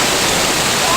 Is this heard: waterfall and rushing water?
yes